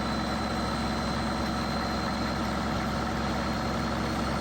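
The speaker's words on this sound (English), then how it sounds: "the engine was successfully cold-started without ether, demonstrating the durability and robust engineering of Caterpillar industrial diesel engines" An old Caterpillar industrial diesel engine idles after a cold start, a dense, steady low rumble with constant mechanical drone and no change in pace, loud and close throughout, no voices.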